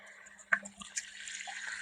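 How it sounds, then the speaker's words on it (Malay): Water poured into a cooking pot of beancurd and pork being braised, a short splash followed by a soft continuous pouring sound, faint and close. "kita masukkan sedikit air"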